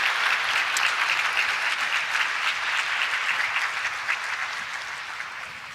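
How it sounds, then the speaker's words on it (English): A university audience applauds its deans at a State of the University address. The steady, dense clapping fills the hall, stays even throughout and fades slightly toward the end. "If you can give them a round of applause"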